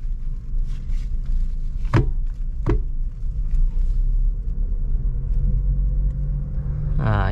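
A 2022 Suzuki Ertiga, R3 GX trim, pulling away with a steady low engine rumble and road hum, heard from inside the cabin, with two sharp clicks early on and a rising whir near the end.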